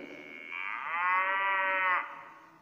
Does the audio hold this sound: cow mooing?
yes